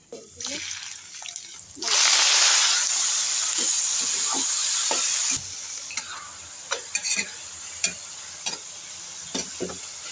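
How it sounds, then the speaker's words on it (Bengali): Bitter gourd frying in a pan as it is stirred, close clinks and scrapes over a soft sizzle, with a loud hissing burst of steam for a few seconds before the frying settles back to quieter stirring. "এখন করলা ভাজি হচ্ছে"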